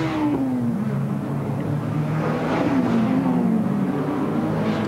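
Race cars from the 1995 Spa-Francorchamps 24 Hours scream past on the circuit, engines rising and falling in pitch as they pass at speed, loud and continuous with overlapping cars and no talk.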